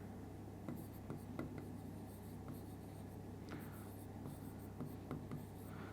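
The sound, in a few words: writing on a board during a maths lesson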